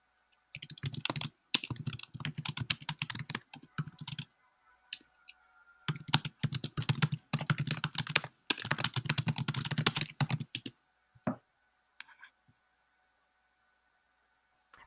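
Bursts of rapid keyboard typing, close and crisp, in several runs separated by short pauses, ending with a few isolated clicks.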